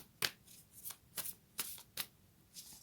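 Moonology oracle cards are shuffled in a quiet room, giving six or seven crisp riffling bursts at a steady, uneven rhythm, close and soft.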